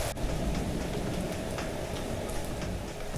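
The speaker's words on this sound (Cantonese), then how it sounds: "而家喺涼亭嗰度就睇緊啲雨啦，聽緊啲雨聲啦" Heavy rain pouring steadily, heard from under a pavilion at a hillside star lookout, a loud continuous hiss with scattered drops striking nearby surfaces.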